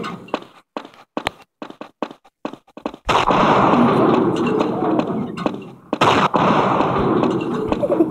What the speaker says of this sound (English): Rocket launcher at me.